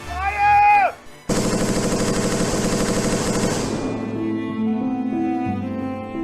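Gunfire from a firing squad execution rings out as a sudden loud burst of rapid shots that runs for several seconds, then fades into a sustained musical score.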